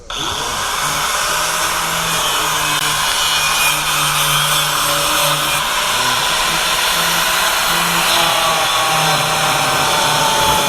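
A power tool cuts out the floor panel of a Porsche 944 during restoration, a loud, continuous high-pitched grinding whine that runs steadily and close throughout without pause.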